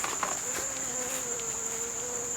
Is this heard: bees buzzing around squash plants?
yes